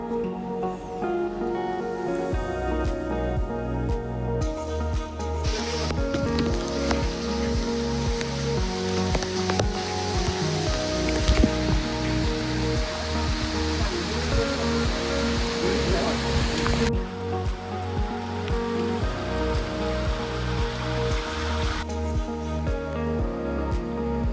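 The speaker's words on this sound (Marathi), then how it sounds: "पावसाचा जोर खूप असल्याकारणाने पूर्ण रस्त्यामध्ये आम्हाला" Heavy rain falling at Sudhagad fort, a steady, dense rushing wash that stays loud and unbroken throughout, with music playing alongside it and no speech.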